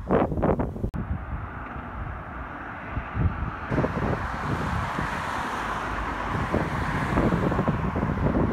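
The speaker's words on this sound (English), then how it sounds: "Windy. It's like a dust storm out here." Strong gusting wind in an Arizona dust storm buffets the microphone outdoors, a steady loud broadband roar with rumbling low gusts and no talking.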